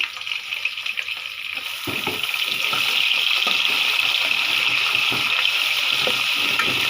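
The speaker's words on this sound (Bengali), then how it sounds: "এখানে আদা রসুন দিয়ে দিচ্ছি" Ginger and garlic hit hot oil in a pan for chicken biryani, a loud, continuous sizzle that swells after a quieter start and stays steady and close, with no talking.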